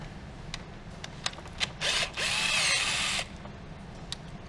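A power tool whirs in short bursts, then runs in a longer, steadier buzz, undoing a bolt on the rocker cover of a Saab 9-3 1.8t B207E engine, close up over a low background hum.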